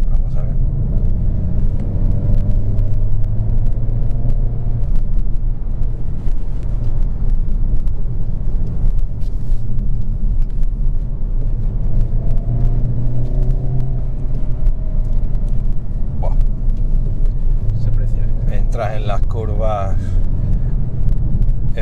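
Cabin view of a 2022 Hyundai Kona N, a small, light car with a 2-litre 280 hp engine, accelerating with a steady low engine rumble under continuous talking.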